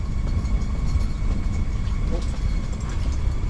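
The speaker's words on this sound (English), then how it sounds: "She's windy as hell out here today." Strong wind gusting across frozen Lake Simcoe during ice fishing, a steady loud roar buffeting the microphone without a break and no voices.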